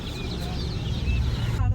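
Chickens, including brightly dyed chicks, cluck and peep in a busy spot, with short chirps rising over a dense, steady murmur of background noise and nearby activity.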